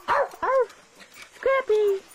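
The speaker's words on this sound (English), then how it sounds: "Scrappy, can you bark?" A terrier gives short barks and yips in two pairs, close and loud, with a little whining between them.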